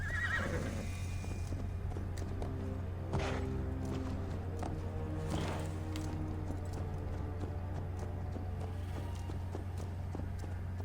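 Horse in Assassin's Creed Valhalla neighing and whinnying early on, with clip-clop hooves over a steady game soundscape and low music bed throughout.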